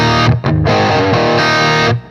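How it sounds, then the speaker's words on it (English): Electric guitar through its bridge humbucker with the tone knob fully up, a loud, distorted, sustained chord-driven phrase with a short choppy start before ringing out, close and alone. "The tone knob all the way up on my bridge humbucker sounds like this."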